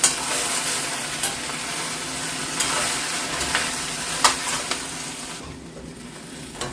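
Okra sizzles steadily in a frying pan as it is stirred with salt, with scraping spoon clicks and knocks against the pan over a constant frying hiss.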